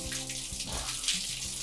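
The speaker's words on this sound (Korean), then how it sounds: "욕조에 물을 받을 때" Water runs from a hot-and-cold faucet into a small bathtub, a steady continuous splashing rush that stays even and fairly near throughout, with no voices.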